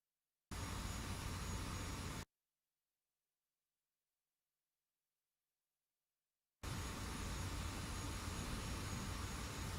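An F-86 jet engine runs at low power in the DCS flight simulator, a steady broadband roar that cuts in, drops out to silence for several seconds, then returns just as steady.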